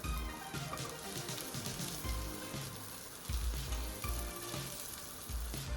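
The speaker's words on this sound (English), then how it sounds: "Now we'll add shallots or onion around 1 cup." Shallots or onions frying for pepper beef, a steady close sizzle in the pan with low stirring and scraping thuds recurring throughout, no voices.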